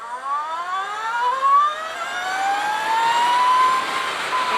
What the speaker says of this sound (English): the engine just sounds mad on this thing, man. It just wails.